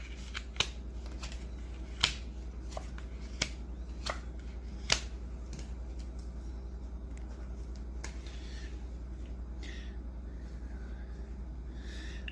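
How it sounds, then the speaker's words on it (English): Playing cards dealt one by one onto a table, a handful of crisp, separate slaps and flicks spaced a second or so apart over a steady low hum, close and fairly soft, with no voices. "you would deal 4 new cards down"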